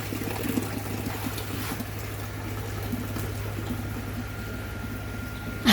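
Hand-washing clothes in water outdoors, with soft steady sloshing and trickling that carries on without a break. A low constant hum runs underneath, and a sharper splash comes near the end.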